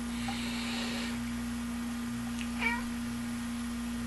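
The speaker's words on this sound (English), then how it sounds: "My cat is meowing in the background." A house cat meows once, faint and brief, over a steady electrical hum and quiet room noise.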